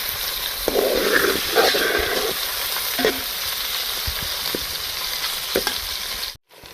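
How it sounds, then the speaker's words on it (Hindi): Steady sizzling of chicken frying golden in a hot pan, with occasional stirring clatters and scrapes; continuous and fairly close, no voices. "तो चिकन को भी हम फ्राई कर लेंगे, गोल्डन कर लेंगे।"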